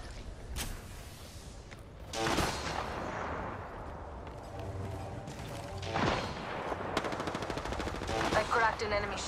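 Gunfire in Apex Legends: rapid bursts of shots crack out near and far, mixed with impacts and crashes, in a busy, fairly dense stretch with a voice talking at times.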